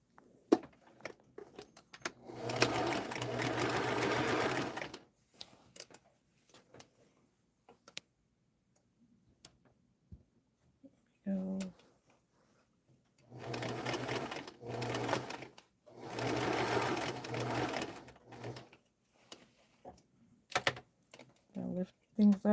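A sewing machine runs in two long steady bursts of rapid needle chatter while a dress form cover's padded sleeve is stitched, with short clicks and handling sounds between runs and a person talking quietly.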